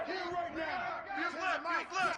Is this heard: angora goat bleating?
no